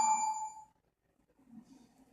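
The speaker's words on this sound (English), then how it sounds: "like pings or whatever, it's probably my phone through text message" Phone text message notification rings out as a single bright, clear ping that fades within a second, followed by faint low background noise.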